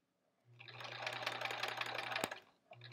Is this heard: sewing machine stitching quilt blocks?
yes